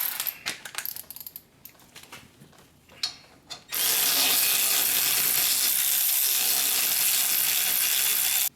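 Hand tools clink and knock on a Ford Focus steering knuckle during wheel bearing work, then a loud, steady, close power-tool whir runs without a break to the end.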